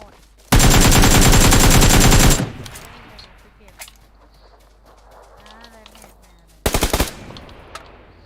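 A long, unbroken burst of automatic rifle fire rattles loudly during a PUBG Lite shootout, followed by a quieter stretch with faint distant sounds, then a second short, sharp burst of rapid shots.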